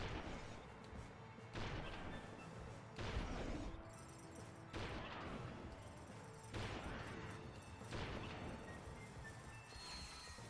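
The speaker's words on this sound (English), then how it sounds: "Pulse rifle." Pulse rifle fire in the Ratchet & Clank PS2 sequel: heavy, regular energy blasts about every one and a half seconds, loud and close, each with a crashing burst and a decaying tail.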